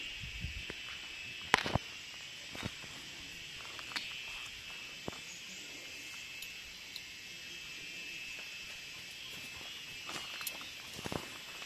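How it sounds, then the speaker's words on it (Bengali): Crickets chirp in a quiet daytime forest on the walk to Buxa Fort, a faint steady high trill running throughout with scattered soft footsteps and rustles. "নিঝুম পরিবেশ দিনের বেলাতেও ঝিঝি পোকার আওয়াজ"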